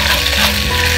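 A loud, steady sizzle of chicken frying in a pan with sauce and tomato ketchup being stirred through, close and continuous with no voices.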